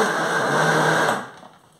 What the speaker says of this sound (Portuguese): Vou bater até ficar bem batidinha a banana e já volto com vocês.